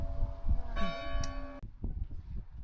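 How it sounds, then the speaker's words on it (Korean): A church bell in the hilltop village of Èze rings out the 10 a.m. hour, a single clear resonant stroke sounding over outdoor wind and background ambience, then decaying. "오전 10시를 알리는 종소리가 울리고"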